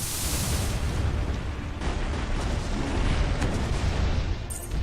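Homing missiles explode in the mech game M.A.S.S. Builder, a dense, continuous roar of overlapping blasts that stays loud and rumbling throughout.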